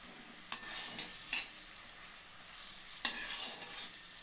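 Potatoes sizzle steadily in a pan with a soft, even hiss, broken by a few sharp clicks and scrapes of stirring, one near the start and another toward the end.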